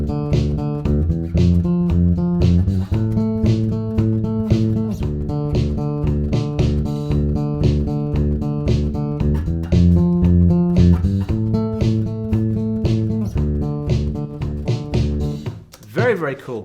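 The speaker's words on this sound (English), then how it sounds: "there's that little flute hook thing. It sounds like this." Solo bass guitar picks out the flute hook from a song as octave-based phrases, a repeating plucked melodic line heard up close, ending with a brief scrape and a few faint words.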